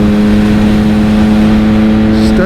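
A BMW K1600B bagger motorcycle rides through corners, its six-cylinder engine holding a loud, steady drone with strong low harmonics and a slight pitch rise near the end, heard close with no talk.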